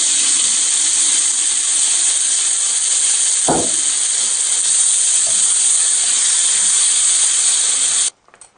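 Tomato puree hits a hot pan for Punjabi egg curry and sets off a loud, steady sizzling hiss that runs unbroken for several seconds with one brief knock partway through, then cuts off abruptly.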